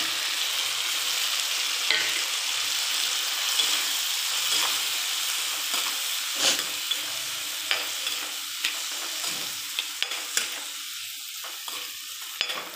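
Tomatoes frying in a pan for tomato chutney, a loud constant sizzle broken by repeated scraping strokes of a spoon, the stirring growing more frequent toward the end.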